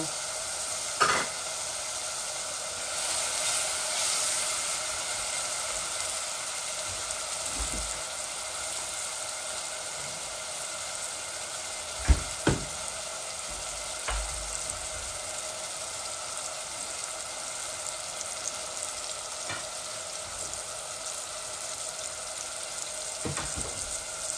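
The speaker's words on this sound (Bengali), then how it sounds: "রসুনগুলা লাল হয়ে গেলে টমেটোটা দিয়ে দিব" Garlic frying in oil in a pan for a Bangladeshi meat and potato curry, with a steady low sizzle throughout, a few louder stirring clinks and scrapes scattered across it, and no voices.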